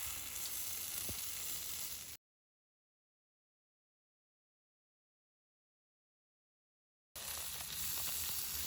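Tomatillos roast over an open fire for salsa tatemada, making a faint, airy sizzle in two stretches separated by several seconds of silence.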